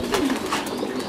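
Many pigeons at a pigeon farm coo together in a steady, dense murmur, loud and close, with overlapping throaty calls and no talking.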